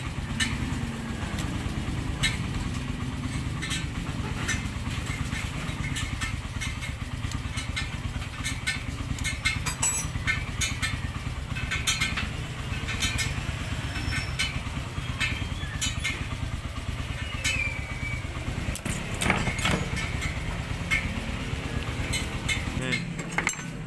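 A rebuilt Yamaha Crypton motorcycle engine runs steadily at idle after an overhaul, a close, continuous putter with faint metallic clinks and rattles over it.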